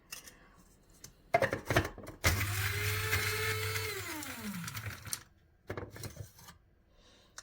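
Honey cake layer scraps are ground into crumbs in a kitchen blender: a few handling clatters, then a loud motor whir for about three seconds that winds down in pitch, followed by more light knocks and rattles.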